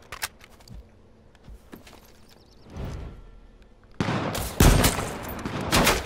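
Bursts of gunfire in the video game H1Z1, scattered shots early on building into loud, dense, sustained volleys toward the end.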